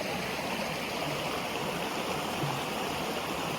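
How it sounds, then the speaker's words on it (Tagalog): Mountain stream water flowing steadily down toward the sea, a dense, continuous rushing and burbling that stays loud and close throughout with no voices over it. "ito yung tubig galing sa taas ng bundok papunta ng dagat"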